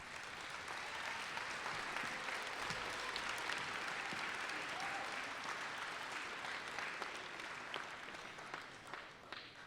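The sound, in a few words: audience applause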